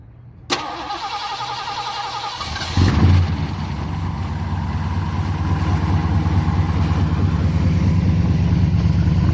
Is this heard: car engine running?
yes